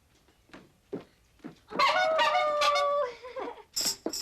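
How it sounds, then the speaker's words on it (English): A one-man band strikes up with a loud burst of honking, squeaky horn-like tones and layered pitched notes, preceded by a few short separate taps and followed by further bright bursts, heard alone in a children's TV station setting. "That was the sound of a one-man band."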